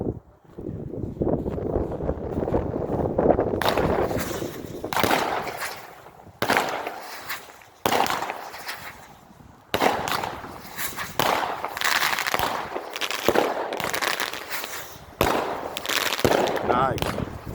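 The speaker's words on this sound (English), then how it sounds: "Eye of the Storm by Phantom Brand Fireworks, 16 Shots." Phantom Brand Eye of the Storm 16-shot firework cake going off outdoors on a cold day, a series of loud separated bursts and crackles in uneven rhythm, with wind noise between shots.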